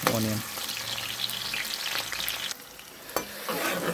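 Onion sautés for chicken biryani in a loud, crackling sizzle, with stirring clatter and a short break where the sizzle drops before it surges again.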